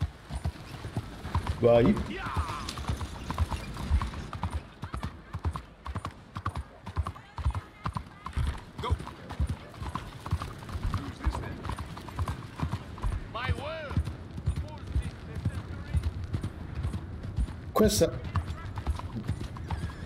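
A horse in the video game Red Dead Redemption 2 moves with a steady clip-clop of hooves, punctuated by a couple of whinnies and snorts, while someone talks casually over the rhythmic hoofbeats.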